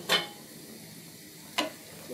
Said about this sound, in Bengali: এখন দিয়ে দেওয়া হচ্ছে সিদ্ধ করে ভেজে রাখা ডিম, ভেড়ে চেড়ে মিশিয়ে নেওয়া হচ্ছে আলুর সঙ্গে